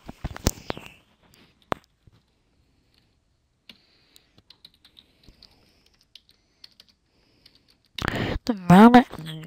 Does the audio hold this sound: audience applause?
no